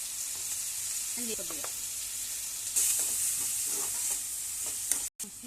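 Curry leaves and fenugreek leaves fry in hot oil in a pan, a steady loud sizzle that flares briefly as they are stirred, close by with no talk.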